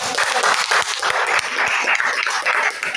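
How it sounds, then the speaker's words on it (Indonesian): Applause for a student in a high school classroom during a teaching performance assessment, a dense steady clapping from a small group of classmates that fills the whole stretch without pause. "Tepuk tangan untuk Sophia"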